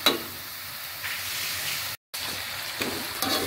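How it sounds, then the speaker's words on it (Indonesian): Sambal sautéing in a pan, a steady close sizzle and hiss with a few light stirring scrapes and a brief dropout near the middle. "menambahkan sambalnya. Tapi kita mau tumis dulu sebentar"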